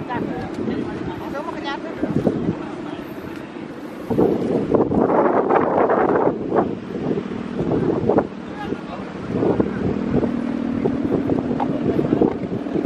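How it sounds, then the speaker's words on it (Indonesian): Wind gusting up and down outdoors near water, buffeting loudly against the microphone in rising and falling surges, with people talking throughout. "Anginnya naik turun ini"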